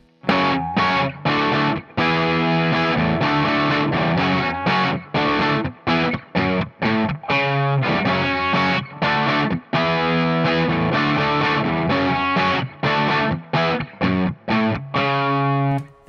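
A heavily distorted electric guitar pounds out chords from the chorus of a song in a driving rhythm, loud and continuous with brief gaps between strummed phrases.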